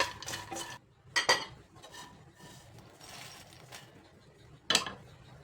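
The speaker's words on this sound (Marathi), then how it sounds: "आता आपल्याला एक कप मखाने हे पण छान क्रिस्पी होईपर्यंत भाजून घ्यायचे" Makhana (fox nuts) being dry-roasted in a pan, heard as a few sharp metallic scrapes and clinks of a spoon stirring against the pan, spaced out across a quiet background.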